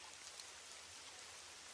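Rain falls steadily in the mountains at a campsite, an even, soft wash of hiss with no breaks, faint and alone.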